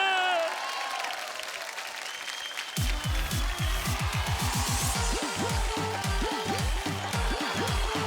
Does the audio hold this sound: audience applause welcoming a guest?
yes